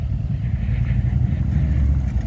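A motorcycle with a sound system rolls by at a Memorial Day parade in Kalamazoo, its engine a steady, loud, close low rumble that holds throughout with slight wavering.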